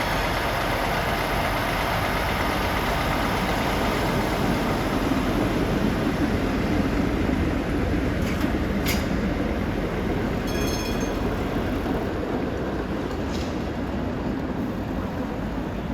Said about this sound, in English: This is the El Paso Juarez Street Railway car.